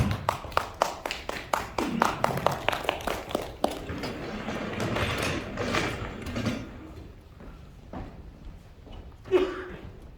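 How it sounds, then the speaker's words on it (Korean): Applause breaks out at a formal commemoration ceremony in a hall, a burst of clapping that swells and then fades into a murmur of the room. "큰 박수로 자리에 모시겠습니다."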